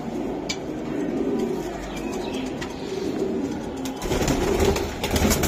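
Domestic pigeons cooing in a loft with an earthen floor, low soft coos repeating steadily against a busy background, with faint rustling and no clear talk.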